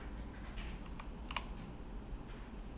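Keys on a computer keyboard are tapped while typing a CSS margin value, a few soft close clicks over a steady low room hum.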